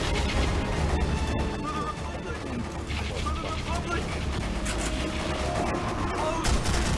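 Dense, continuous gunfire from a Half-Life 2 roleplay battle during a demolition map-change event, with overlapping shots and crashes across the whole stretch and voices talking underneath.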